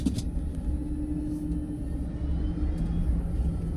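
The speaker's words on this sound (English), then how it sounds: "Decent amount of motor noise too, which I actually like in a truck, an electric truck." Steady low rumble of a Chevrolet Silverado EV electric truck motor accelerating, a continuous drone with a faint whine, no talking.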